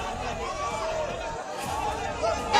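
A crowd gathers in front of a vehicle convoy at a polling site in Danapur, Bihar. Many overlapping voices make a continuous, close babble of shouting and chatter with no pauses.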